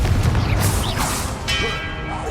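A Confringo blasting spell goes off in Hogwarts Legacy as a loud booming burst with a whooshing tail and ringing tones, over game battle noise.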